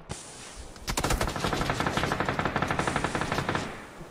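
Rapid automatic weapon fire in a shooting video game: a steady, fast rattle of close, loud shots running for about three seconds with no talking.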